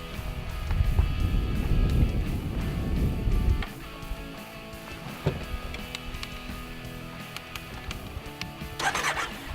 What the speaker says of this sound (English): can you hold in the clutch, Scott?